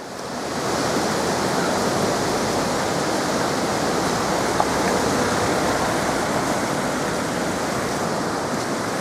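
Swollen river at Brookhouse near Denbigh the day after Storm Ciaran, rushing water with a dense, steady roar that stays loud and unbroken throughout.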